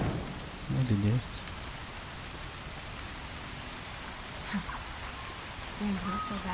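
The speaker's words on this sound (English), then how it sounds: "Rain's not so bad." Steady rain falling in the video game Horizon Zero Dawn, a continuous broadband hiss of drops with a few low tonal game sounds and faint voice-like murmurs rising over it.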